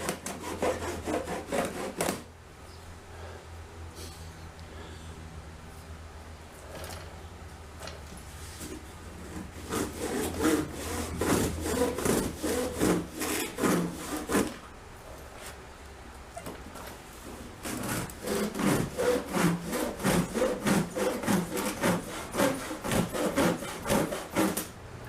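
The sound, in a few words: large knife cutting through packaging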